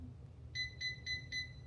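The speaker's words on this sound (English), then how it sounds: "And then it beeps when it's done." An automatic hair curler beeps four times in a steady, evenly spaced series of short, bright electronic tones, fairly close and clear over a low background hum.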